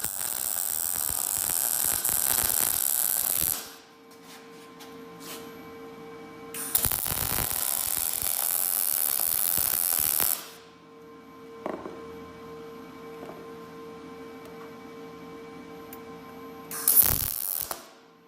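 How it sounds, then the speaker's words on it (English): Torch welding steel parts held in a jig in a home shop, a steady hissing crackle that runs in three long bursts with quieter hum and mechanical clicks between, close and without talk. "So just welded the front side of that"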